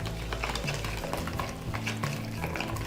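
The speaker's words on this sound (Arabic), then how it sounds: "نحرك." A spoon stirs cake batter with oil and apricot jam in a bowl, making soft, wet, rhythmic scraping at close range with a steady low background.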